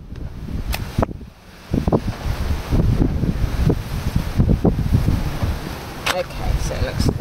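Strong wind gusting at an outdoor campfire cooking spot, buffeting the microphone with low, uneven roaring and rustling, under sporadic close handling knocks and a person talking.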